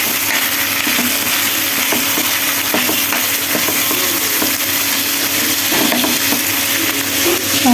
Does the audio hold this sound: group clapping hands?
no